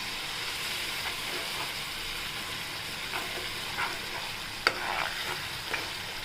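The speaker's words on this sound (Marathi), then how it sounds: "आता तेलात परतून घेऊ आपण त्याच्यात आता आपण आलं लसणाची पेस्ट आहे ती टाकायची ती परतून घेऊया छान" Ginger-garlic paste sautéing in hot oil for a split chickpea curry, a steady close sizzle with occasional scraping stirs and a sharper clink of the spoon near the end.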